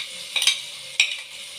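Chopped onions dropped into melted butter for a basmati rice dish with liver and gizzards, producing two quick bursts of scraping and sizzle over a gentle continuous fry.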